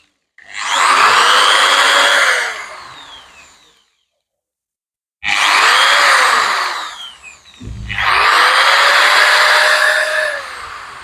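A TT1042 420 W 10 mm power tool whirs in three loud bursts, each spinning up with a rising whine and then running down, with short pauses between the runs.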